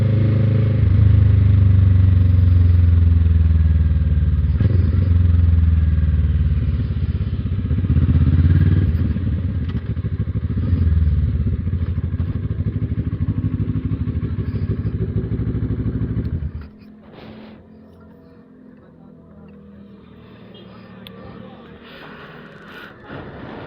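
Kawasaki ER6F Ninja 650cc motorcycle being ridden, its engine droning loud and steady with low rumble and wind buffeting, then dropping abruptly to a quieter idle-like hum near the end; a voice speaks faintly in places.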